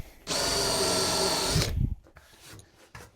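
A power drill with a 19mm countersink bit chamfers a hole, giving a loud, steady high-pitched whine for just over a second before it winds down and stops, followed by faint knocks.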